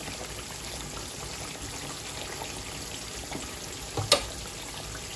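Ghee heats in a pan during home cooking, giving a soft, steady sizzle and hiss that runs evenly throughout, with one brief clatter near the end.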